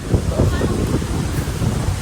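Strong wind at the seashore beside salt-making from sea water, a loud steady rumble buffeting the microphone, with faint voices underneath.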